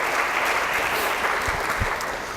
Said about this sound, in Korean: 우리 젊은이교회 모든 헌신하는 지체들을 위해서 우리 한번 박수로 격려해 주셨으면 좋겠어요.